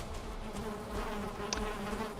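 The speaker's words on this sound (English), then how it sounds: "Oh, I was not hearing a mosquito, I was hearing my bees." Beehives in the video game Valheim: a steady, soft droning buzz of bees, fairly quiet and continuous with no one speaking.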